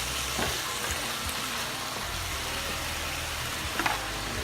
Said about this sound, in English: we're going to stir that all around